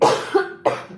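A woman giving a religious talk coughs twice in quick succession, loud and close to the microphone, with a short wheezy breath between the two coughs.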